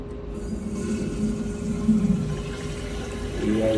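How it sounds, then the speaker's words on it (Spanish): Water rushes through a repaired flushometer toilet valve, a steady loud hissing flow that swells toward the end, close to the fixture with no talking. "Y ahí viene el agua."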